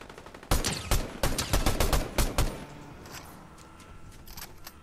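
Rapid gunfire in the video game Fortnite, a loud burst of many close shots in quick irregular succession, then fainter distant shots trailing off.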